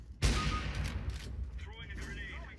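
Counter-Strike: Global Offensive gunfire opens with a sharp loud shot, followed by a rapid burst of several more shots and mechanical clatter. Someone speaks Polish over the sounds.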